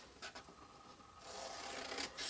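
Cardstock is trimmed by hand for a no-glue fold-flat box: a few quiet scratchy cuts, then a longer rasping stroke, close and soft, with no voice.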